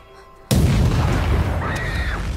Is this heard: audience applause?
no